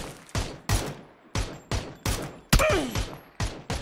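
Rapid bursts of gunfire ring out in a PUBG match on the Miramar desert map, about nine sharp, fairly loud shots spaced irregularly with echoing tails and no talk over them.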